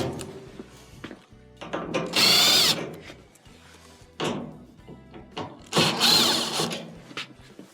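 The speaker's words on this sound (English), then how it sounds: "We do have 4 Phillips screws that will have to be removed." A power screwdriver whines in two loud bursts while backing Phillips screws out of a dryer's front panel, with softer clicks and knocks of handling between them and no talk.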